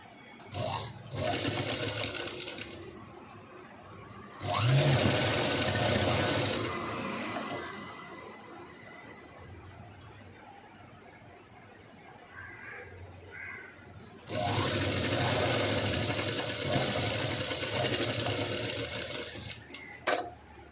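A sewing machine stitches a princess-cut V-neck blouse in two long loud bursts of rapid whirring, with quieter handling and faint mechanical clicks in the pause between them.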